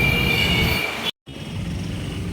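Metro train running along the track, a steady loud rumble of wheels and carriage noise with faint squeal, broken by a brief cut of silence midway before the rumble resumes.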